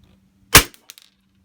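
Tokyo Marui M&P9 airsoft pistol on green gas firing a 0.2 gram BB through a chronograph: one sharp close snap followed by a few faint clicks.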